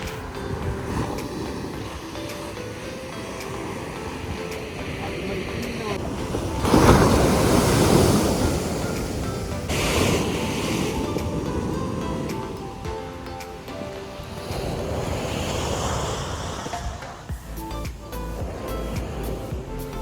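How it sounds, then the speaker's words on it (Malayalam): Sea waves breaking on a beach at a festival, with rushing surf swells rising and falling amid gusty wind buffeting the microphone, one big wave crash loud in the middle. "അപ്പതേ ഞങ്ങൾ കടലിൻ്റെ അടുത്തെത്തിയിട്ടുണ്ട്. നിങ്ങൾക്ക് കാണാൻ പറ്റണ്ട, നല്ല വേവ്സ് ഉണ്ടായിരുന്നിട്ടാ."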